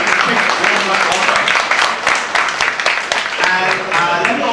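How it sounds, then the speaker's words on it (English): A university entrepreneurship panel audience gives a steady round of applause, a full room of clapping that stays loud and even throughout. "let's give everyone a quick round of applause"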